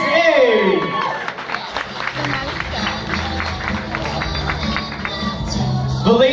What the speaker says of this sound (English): A louder applause for Miss Skyjet